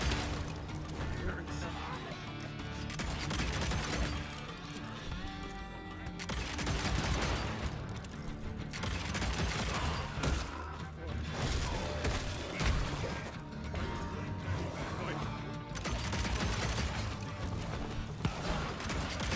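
Automatic bullet gunfire in the video game Evil West, rattling in dense, continuous bursts mixed with crashes and game effects, with a voice talking over it throughout.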